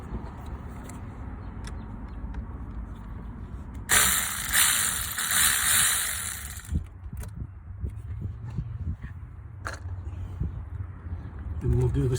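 A ratchet undoes the nut on a car battery terminal, its rapid clicking burst lasting a few seconds up close, with someone talking before and after it.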